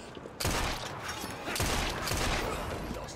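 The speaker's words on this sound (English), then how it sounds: "Shot my own gang member" Gunfire in the Assassin's Creed Syndicate video game, a loud sharp shot followed by a second burst about a second later, ringing over a busy background of game ambience.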